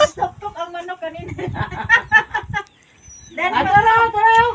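Chickens cluck in a series of short, close calls at a birthday gathering, with a brief pause before another burst of clucking, and people talk underneath.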